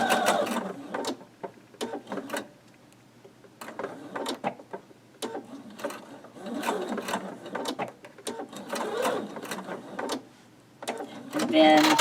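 A sewing machine stitches a Lemoyne Star quilt block with small back stitches, in short bursts of whirring with brief pauses between runs, close and moderately loud.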